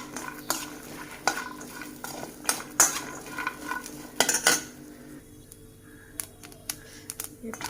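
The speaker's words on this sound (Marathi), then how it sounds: "इथे मी नारळ घेतलेला आहे, नारळ खोबरं आहे, ओल्या खोबऱ्याचं थोडं भाजून घेते।" Grated fresh coconut being roasted in a pan with a utensil, scraping and clinking repeatedly against the metal in an uneven rhythm, close and moderately loud, with a few sharp knocks and quieter gaps.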